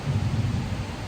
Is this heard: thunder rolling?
yes